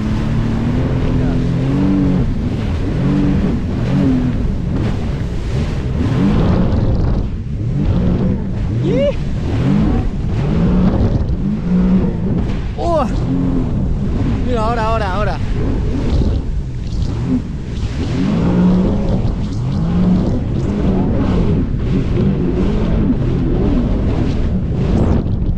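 A jet ski riding and jumping waves off Menorca, a loud continuous engine roar with surges and revving, heavy wind buffeting the microphone, and people talking and shouting over it.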